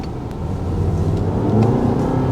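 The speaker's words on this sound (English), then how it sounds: "quicker, and then there's a deeper engine noise. There's definitely more of a throatier engine noise." A Mazda CX-80 SUV engine revs up as it accelerates in sport mode, a deep rising growl that grows louder and throatier over a couple of seconds.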